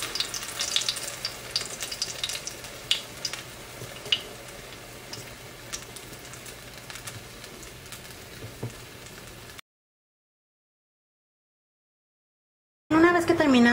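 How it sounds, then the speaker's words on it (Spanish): Cheese-stuffed nopales, dipped in egg, fry in hot oil with a steady crackling sizzle and scattered pops for about ten seconds, then a stretch of silence before a brief louder burst. "Los llevamos al huevo. Del huevo al aceite."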